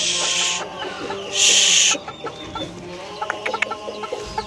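A chicken clucks and squawks nearby, with two bursts of loud hissy noise and scattered clucks afterward.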